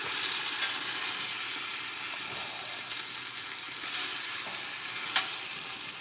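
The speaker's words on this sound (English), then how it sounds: "Do you sear your meat on the sides?" Meat sears in a pan with a soft, continuous sizzle, fairly quiet and even, broken by a couple of small clicks near the end.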